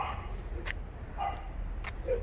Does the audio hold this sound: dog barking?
yes